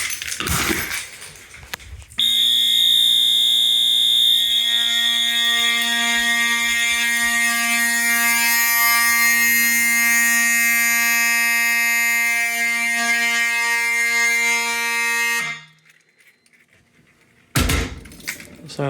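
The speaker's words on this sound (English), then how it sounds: "Here's the BNG1TS local alarm version requested by Elevator Fan 19." A BNG1TS local fire alarm is set off during a system test, giving a loud, steady electronic tone that holds for about thirteen seconds before cutting off, with brief handling noise before and after.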